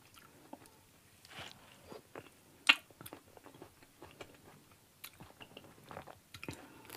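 Close, quiet chewing of red currants with moist crunches and squishy bites, irregular and intimate, one sharper crunch standing out partway through.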